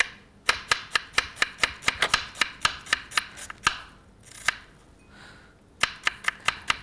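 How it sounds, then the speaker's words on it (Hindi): Onion being finely chopped with a knife on a board: a rapid, steady run of sharp close knocks, a brief pause with a soft scrape, then another quick burst of chops. "बारीक चॉप करें प्याज को"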